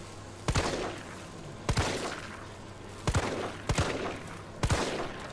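Stun gun shots in Resident Evil 3 come as five sharp, loud cracks at uneven intervals, some doubled, each followed by a short buzzing decay over a low steady hum.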